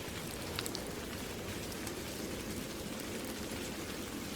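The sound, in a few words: heavy rain pouring, cartoon sound effect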